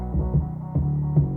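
Hip-hop beat with the low-end mud cut away by a Fabfilter Pro Q3 equalizer, leaving a thick bass hum with a few soft rhythmic hits in a short loop, moderately loud, no voices.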